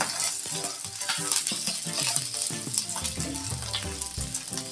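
Garlic cloves and a piece of ginger frying in a pan give a loud, close sizzle with crackling pops and the clatter of a utensil moving through the pan.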